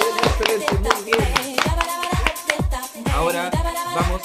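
Audience clapping for a raffle winner at a prize draw, a steady run of crowd applause with rhythmic, repeated claps and music-like tones mixed in, moderately loud throughout.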